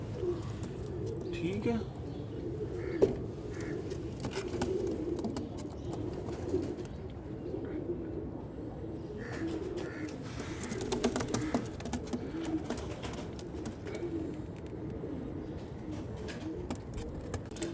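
Pair of Ambersary pigeons in a cage, cooing in low repeated murmurs close by, with a voice speaking briefly over the birds.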